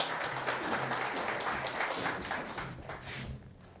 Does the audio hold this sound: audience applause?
yes